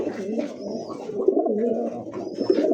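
Domestic and fancy pigeons at a bird market coo in a steady, throaty, rolling rhythm that runs nearly continuously, close and fairly loud, with a few fainter chirps mixed in.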